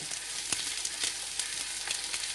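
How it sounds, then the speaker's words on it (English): Beef cheeks sear in a fry pan with a dense, steady sizzle and crackle, close and fairly loud, with faint occasional pops and no voices. "So we just let that fry for a bit more"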